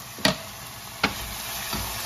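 Zucchini with roughly chopped garlic sizzles softly in a pan, with two sharp stirring scrapes and a fainter third one over the quiet frying hiss.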